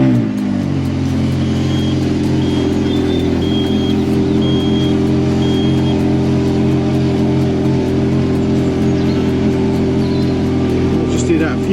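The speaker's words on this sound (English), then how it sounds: "We're then going to fire up the car and go lock to lock." A Ferrari 430 Scuderia idles loudly and steadily in a workshop while its steering is turned lock to lock, a close, continuous engine drone with faint intermittent whining tones.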